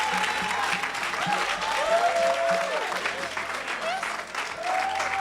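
Applause from a congregation at a French-speaking evangelical deliverance service, sustained clapping from a crowd under a voice and singing, moderately near and steady throughout.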